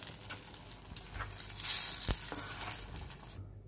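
Dried red chillies and curry leaves in hot oil tipped into cooked dal, giving a busy close sizzle and crackle with clattering stirring knocks, no voices.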